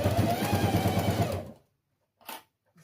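A sewing machine stitches a pencil case in a steady, dense mechanical run for about a second and a half, then stops. Silence follows, broken by a brief soft knock.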